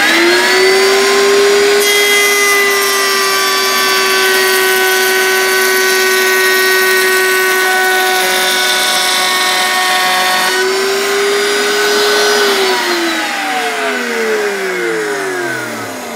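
A benchtop router table cuts rabbets in wood: a loud, sustained high-pitched motor whine holds steady while the bit bites, then pitches down as the router spins to a stop.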